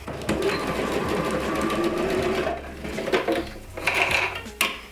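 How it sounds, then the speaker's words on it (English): A sewing machine runs steadily stitching shirring lines into fabric pulled tight, a close continuous mechanical whir that pauses briefly and restarts with a few clicks. "as you're sewing the next few lines until you're done"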